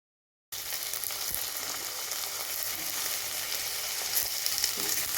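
Onions and tomatoes for a jackfruit seed kurma sautéing in a hot pan, a steady, close, continuous sizzle with faint stirring scrapes. It starts after a brief silence, and nobody talks.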